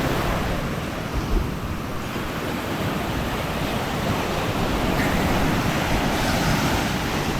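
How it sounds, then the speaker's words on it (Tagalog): Strong ocean surf roars continuously, a dense, steady wash of crashing waves with wind buffeting the microphone, no voices. "Ang lakas ng alon."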